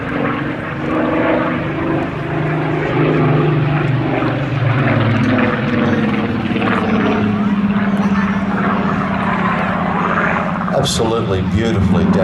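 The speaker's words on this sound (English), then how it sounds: "the grace of the Spitfire is demonstrated for everybody here today" A Supermarine Spitfire PR.XIX with a Rolls-Royce engine flies a display at an air festival, its propeller engine droning loudly and steadily as the pitch slowly shifts on the pass, under an announcer's voice.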